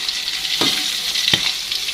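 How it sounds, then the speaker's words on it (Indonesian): Tuna (tongkol) pieces fry in a small amount of oil with a steady bright sizzle, and two quick stirring scrapes cut through the crackle. "ini ikannya saya goreng setengahnya dulu ya teman-teman"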